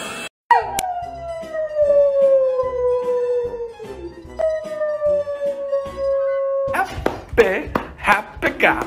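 A dog gives long, sliding howls, loud and close, one sustained wail followed by a second, then ends in a burst of rustling, yips and scuffling noises.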